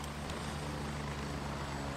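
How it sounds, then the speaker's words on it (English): Helicopter in a video game, a dense continuous rotor and engine roar filling the whole stretch at steady level, with no talk over it. "I can't hear anything over the fucking chopper."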